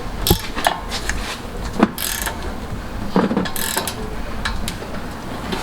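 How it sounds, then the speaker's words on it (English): Torque wrench tightening bolts on a Brembo brake caliper during a Genesis Coupe brake conversion, giving several sharp ratcheting clicks and metallic clunks over steady background noise, close up with no talking. "As you can see, we're torquing them down."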